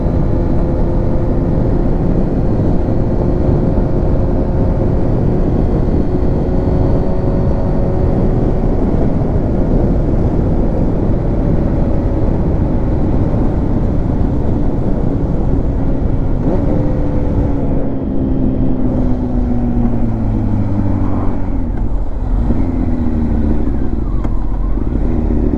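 A Honda CBR929RR sport bike fitted with a new radiator roars loudly and continuously on a test ride, the engine note rising and falling through gear changes as it heads into a corner.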